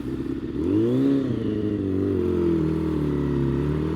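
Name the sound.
warmed-up sportbike motorcycle engine running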